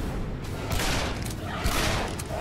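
An explosion goes off in the first-person shooter Shadow Warrior, heard as a loud burst of blasts and crackling booms in two main waves.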